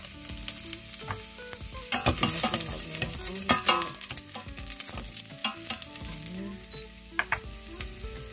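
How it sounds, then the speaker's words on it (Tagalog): Garlic sautéing in oil in a pan, an uneven sizzle broken by sharp scrapes and clatter from stirring, rising and falling in loudness over a faint tonal background. "Gigisa natin."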